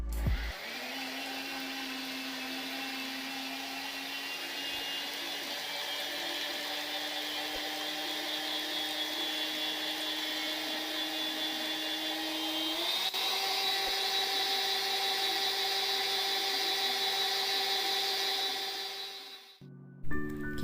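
An electric hand mixer beats a powdered sugar mixture for classic nastar pineapple tart dough, a steady close motor whir that holds for about twenty seconds, shifting slightly higher partway through before stopping.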